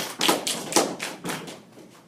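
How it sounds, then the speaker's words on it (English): Sharp hand claps ring out in a quick irregular series of about seven, loud and close at first and fading slightly toward the end, with no talking. "It's a clap."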